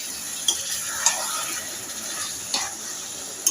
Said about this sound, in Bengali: ভেজে নেব মশলাটাকে।